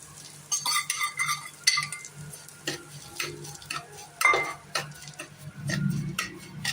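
Semolina tipped into ghee and stirred while roasting, with irregular metal spoon scrapes and clinks against the pan over a faint sizzle, close and uneven in rhythm.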